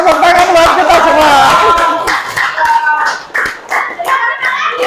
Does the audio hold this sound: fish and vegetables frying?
no